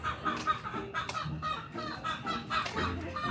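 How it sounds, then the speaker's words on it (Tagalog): Chickens cluck repeatedly in short bursts, close and steady, with a few birds overlapping throughout. "Kapakain na tayo ng manok."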